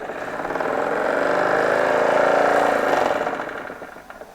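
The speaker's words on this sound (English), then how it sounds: "this particular steam engine is much more sophisticated, a little faster" A toy steam engine on a green base running at speed in a workshop setup, a steady whirring hum that swells and then fades away, heard close and alone.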